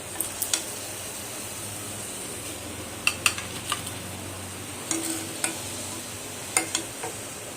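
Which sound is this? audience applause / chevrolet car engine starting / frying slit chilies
frying slit chilies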